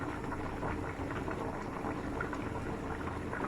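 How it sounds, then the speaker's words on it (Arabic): Chicken simmers in a covered pot on the stove, giving a steady, dense bubbling and hiss of boiling liquid that stays even and close throughout, with no voices. "هنا الدجاج راه كيطيب باقي"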